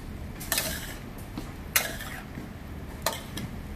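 Shrimp and zucchini being stir-fried in a pan, with a steady sizzle and several sharp metallic clinks of a utensil against the pan at irregular intervals.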